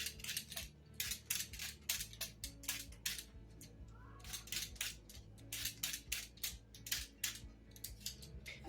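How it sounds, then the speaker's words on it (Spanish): Two carrots being peeled with a peeler, a rapid series of short, crisp scraping strokes in an irregular rhythm, close and fairly quiet with no talking. "Pelaremos 2 zanahorias."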